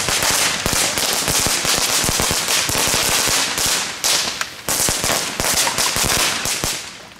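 Category 1 consumer fireworks go off outdoors in Den Bosch as a dense, continuous barrage of sharp firecracker crackles and pops, close and loud throughout.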